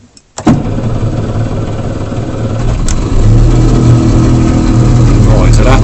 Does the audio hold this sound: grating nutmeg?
no